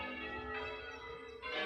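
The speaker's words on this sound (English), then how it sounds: "I do love the sound of church bells" Church bells ring outdoors near Weston-super-Mare, sustained overlapping metallic tones hanging in the air at moderate distance, with a fresh strike entering near the end and no talking.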